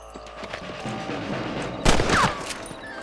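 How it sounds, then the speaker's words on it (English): Rifle shots fired at rabbits in the western video game Red Dead Redemption, a sharp burst of gunfire in the middle against a steady background of game ambience. "Get your rifle out. It's about time these little thieves met their maker."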